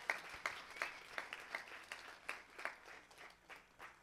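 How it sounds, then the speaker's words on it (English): An audience applauds student startup teams at a pitch finale event, a steady patter of clapping heard faintly and at a distance, with no voices over it. "let's give them one more round of applause for everybody who came out here tonight"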